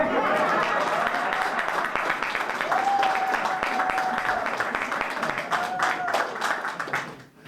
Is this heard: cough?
no